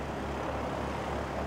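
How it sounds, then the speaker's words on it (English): A steady, continuous Partenavia P-68 twin-engine aircraft hum with a low propeller drone, idling at an even level at an aero club airfield, with no talk. "that's a P-68 just idling the engines"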